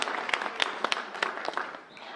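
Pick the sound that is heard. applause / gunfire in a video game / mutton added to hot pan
applause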